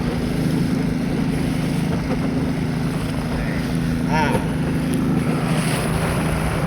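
Strong wind roars across open water out in the middle of a river, a constant blustery rush of microphone buffeting over a low boat motor drone, with brief chirping sounds partway through.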